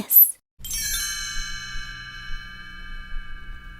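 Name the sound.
page-turn chimes ringing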